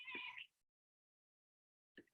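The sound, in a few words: cat meowing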